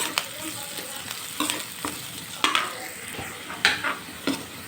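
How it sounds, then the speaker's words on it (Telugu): Onions fry with bitter gourd in a pan, producing a soft continuous sizzle broken by regular scraping stirs of a spoon every half second or so, close but fairly quiet and without talk. "చూడండి ఇక్కడ ఆనియన్స్ కూడా ఫ్రై అవుతున్నాయి"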